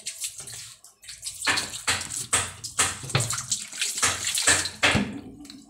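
Water poured into a basin for washing while chicken tinola cooks, splashing in several uneven gushes over a few seconds, close and fairly loud with no talk.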